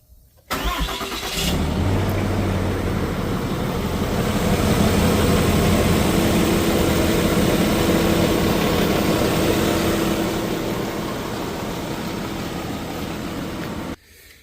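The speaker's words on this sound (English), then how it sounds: "And now here is a quasi cold start with the heavier weight oil." A 2026 RAM Cummins diesel on heavier-weight oil does a quasi cold start after cooling down. It fires up abruptly and then runs on as a loud, steady rumble for about thirteen seconds before cutting off sharply, with no one talking.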